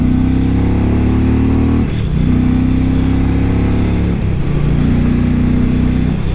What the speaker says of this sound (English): Got a nice thumpy roar to it